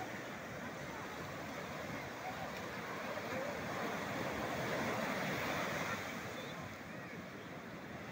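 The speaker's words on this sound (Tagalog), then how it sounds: "Ang lalaki ng alon." Large ocean waves roll in at the San Juan, La Union surf spot, a steady distant wash of surf with wind noise, continuous and fairly faint throughout.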